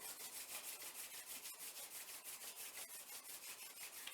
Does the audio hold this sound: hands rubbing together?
yes